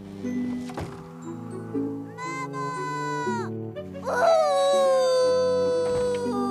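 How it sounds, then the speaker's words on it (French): A wolf in a children's cartoon set in a forest gives long, wavering howls, the second one rising then trailing off. The howls are heard over a background of sustained musical tones. "C'est ce maudit loup."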